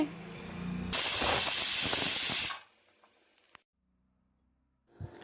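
A loud burst of hissing steam from a pressure cooker whistle cooking drumsticks lasts about two seconds, then cuts off, followed by near silence and a small clunk.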